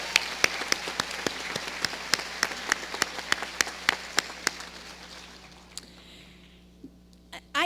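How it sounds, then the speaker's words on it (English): Sustained applause from a large audience at a commencement ceremony, with distinct sharp claps standing out in a steady rhythm, gradually fading toward the end. "they deserve a round of applause"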